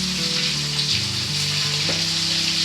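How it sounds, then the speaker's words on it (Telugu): Fish pieces deep-frying in hot oil give a steady, close sizzle that holds at an even level from start to finish, with no talking. "ఇవన్నీ డీప్ ఫ్రై చేసేసుకోవాలండి ఫస్ట్."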